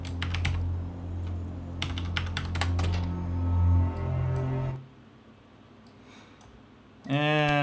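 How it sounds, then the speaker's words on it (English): Rapid bursts of clicking keystrokes as a password is typed on a computer keyboard, close and clear, over a steady hum, then a pause and a rising electronic tone near the end. "Type in my password."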